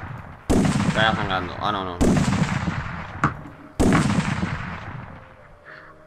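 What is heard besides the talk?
gunfire in the video game Ark Survival Evolved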